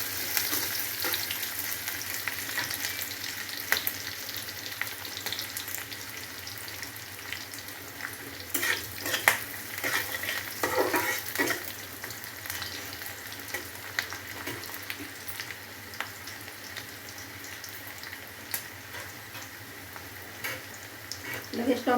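Onion frying in a pan for a chicken dish, a continuous soft sizzle and crackle with occasional stirring scrapes, steady and moderately close throughout.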